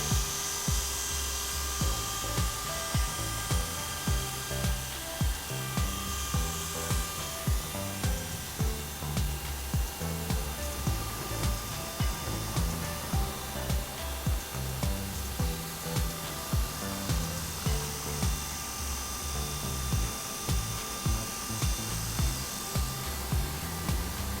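A JR Forza 450 RC helicopter hovers and flies nearby, its rotor chopping in a fast, steady pulse over a high whining motor that holds loud and constant throughout.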